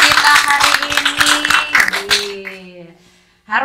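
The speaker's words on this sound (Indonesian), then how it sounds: "Boleh tepuk tangan dulu yuk buat narasumber kita hari ini." An audience claps for the guest speakers at a Universitas Terbuka sports and arts event, a brief burst of brisk applause under a voice speaking, fading out into a tonal ring before another sound begins.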